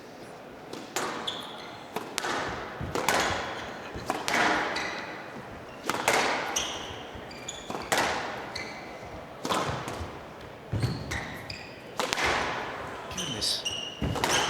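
Hard squash shots during a professional tournament match, sharp loud cracks off the front wall in a rapid irregular rally, each strike followed by quick squeaks and thuds, with a commentator's voice briefly heard underneath.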